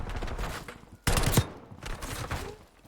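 Gunshots in Call of Duty: Warzone, a few sharp bursts with one loud close volley in the middle and fainter fire around it.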